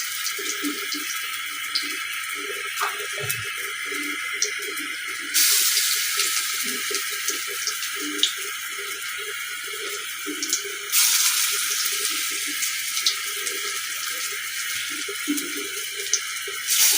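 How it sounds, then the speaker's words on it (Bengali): Bottle gourd leaf fritters fry in hot oil with a steady, close bright hiss. The sizzle rises abruptly in level twice, with faint clinks scattered beneath it. "আমি বড়াগুলো লাল লাল করে ভেজে নিব।"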